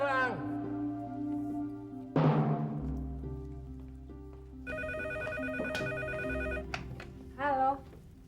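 Telephone ringing in an Indonesian TV drama scene, heard in short repeated electronic bursts alongside people talking and other room sounds.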